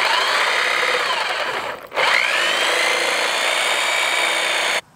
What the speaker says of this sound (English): So I'm just using my DeWalt jigsaw.